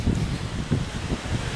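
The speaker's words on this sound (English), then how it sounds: "I'm gonna speak up when it gets windy so you can hear me." Wind buffets a microphone outdoors, a loud continuous rumbling roar with gusty pulses and no speech over it.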